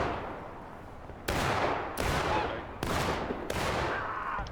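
Musket volleys crack out in a Civil War multiplayer battle in The Blue and the Grey, four loud, sharp reports at roughly one-second intervals, each trailing into a long echoing decay over a rumbling background.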